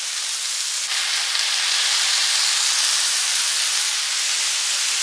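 Seekh kebabs sizzle on a hot griddle pan, giving a steady, loud, even hiss that holds unbroken throughout with no talking.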